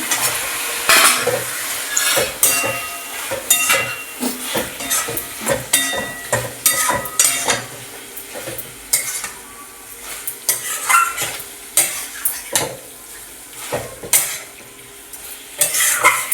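Chicken pieces are stirred and sautéed in a thick spiced gravy for a home-style chicken curry, with a steady low sizzle under repeated loud scrapes and knocks of a spatula against the pot, with no voices.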